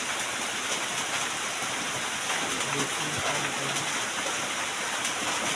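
Steady rain falls in a dense, continuous hiss, with a faint low hum briefly audible in the background.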